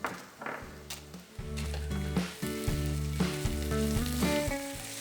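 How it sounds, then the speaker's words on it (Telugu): Black pepper, cumin, coriander seeds and dried red chilies dry-roasting in a pan over low flame, a steady crackling sizzle with repeated scraping stirs, close and continuous. "లో ఫ్లేమ్లో ఫ్రై చేసుకోండి, ఎందుకంటే జీలకర్ర ధనియాలు తొందరగా మాడిపోతాయి"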